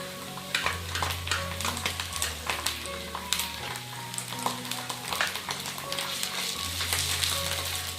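Onion with ginger garlic paste fries over high flame in a pan, a steady sizzle broken by repeated scraping and stirring clatter from a spatula, close and continuous.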